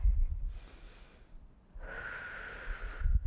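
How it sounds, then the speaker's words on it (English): Heavy workout breathing during a bodyweight lower-body routine, a strong inhale through the nose followed by a long, hissing exhale through the mouth, close and alone, with low thumps at the edges. "See how I'm breathing in through my nose? Out through the mouth."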